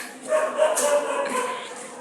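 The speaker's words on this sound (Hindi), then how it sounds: "तो अभी ये इसी को देख के भौंक रहे हैं।" Several street dogs bark in a quarrel over a stranger, a busy, overlapping run of yips and woofs at moderate distance with a noisy outdoor background.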